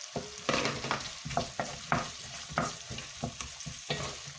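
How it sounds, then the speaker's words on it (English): Onions sautéing in a pan for a mutton soup spiced with cardamom and star anise, with repeated scraping stir strokes at a steady rhythm over a soft, close sizzle and no talk. "Next, add your onions."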